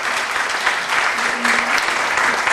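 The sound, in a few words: audience applause at a poetry gathering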